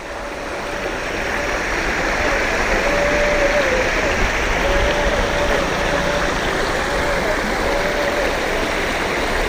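Sewage water pours into a river in a steady, loud rushing wash, with a faint, wavering whine drifting in and out above the constant flow.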